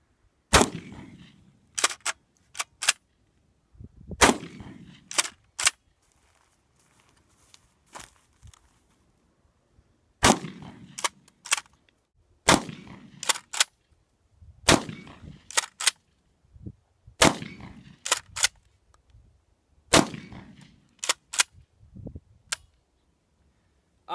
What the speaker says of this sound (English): Safety's off, it's time to shoot.